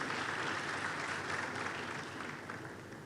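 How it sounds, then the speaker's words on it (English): Crowd at a Universal Health Coverage expo in Kericho County, Kenya claps in a short, dense burst of applause, fairly faint and distant, tapering off gradually. "A round of applause."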